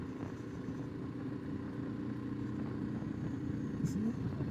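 A heavily loaded motorcycle rides over an unimproved washboard dirt road near a BLM campground, a steady low engine drone mixed with continuous rumbling and rattling from the rough surface, close and unbroken.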